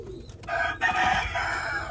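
A single low, throaty coo from a Salara Golden pigeon sitting close by swells and trails off, heard up close and fairly loud.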